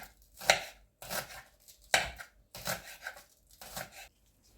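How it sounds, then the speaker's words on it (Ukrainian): Knife finely chopping green onion for a kefir pie: five crisp, close chops in an even rhythm, each a sharp cut followed by a brief scrape, with silence between. "Тепер беру зелену цибульку і буду дрібненько нарізати."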